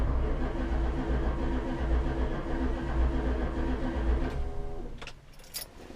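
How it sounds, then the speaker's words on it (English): A 1966 Chrysler 300 with a 383 V8 and Holley Sniper EFI cranks steadily without starting, a close, loud rhythmic starter drone that stops near the end, followed by a few small clicks. "It doesn't sound like it wants to start"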